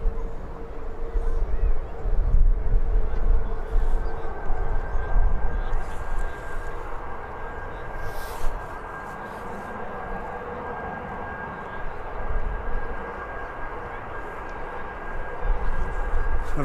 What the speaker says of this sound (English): Another Jet 2 coming in from Split.